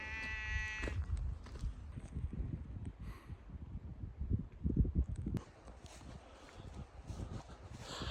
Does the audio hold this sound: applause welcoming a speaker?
no